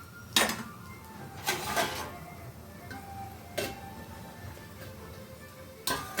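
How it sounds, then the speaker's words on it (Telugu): A metal lid is set onto a cooking pot, giving a few sharp, close clinks and clanks spaced out over several seconds against a quiet kitchen background. "దీని మీద మూత పెట్టేసుకుందాం."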